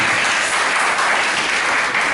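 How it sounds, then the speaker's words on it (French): Loud, close audience applause at a project launch event in a hall, a thick continuous roar of clapping hands holding steady for about two seconds. "applaudissez normalement pour elle"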